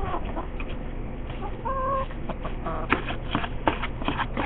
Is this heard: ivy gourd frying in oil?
no